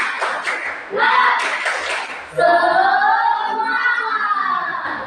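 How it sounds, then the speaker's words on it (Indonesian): A sixth-grade class does a rhythmic cheer clap led by a classmate, quick patterned claps mixed with children's chanting voices, then a sustained sung or chanted tone from the group. "coba guru pengen dengar tepuk semangat dari kalian"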